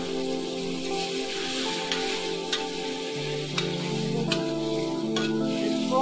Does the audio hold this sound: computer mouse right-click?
no